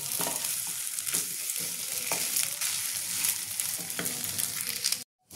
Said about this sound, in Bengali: একটু আলুটা একটুখানি নেড়ে নেবো